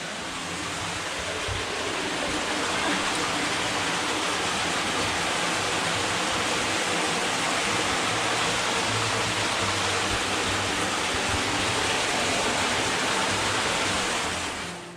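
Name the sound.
Lost River underground stream flowing out of a hillside opening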